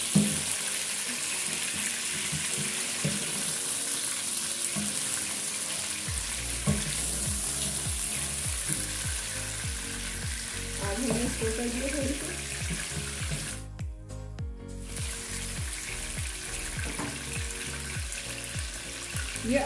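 Chicken karahi cooking in hot oil in a pan, with a steady loud sizzle throughout and a run of rhythmic stirring scrapes in the second half, alone without talk.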